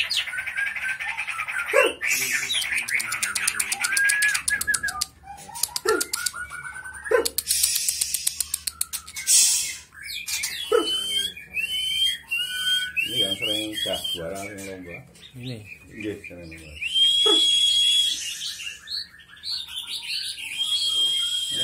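White-rumped shamas (Murai Batu) in a breeding aviary give repeated bright whistles, chirps and trills, fairly close and loud, with bursts of song throughout and no talk over them.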